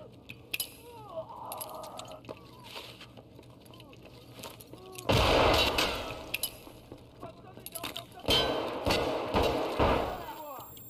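Video game combat with frag grenades: muffled explosion booms and bursts of gunfire rise out of busy game noise, with two heavy blasts standing out midway and near the end, under excited talk.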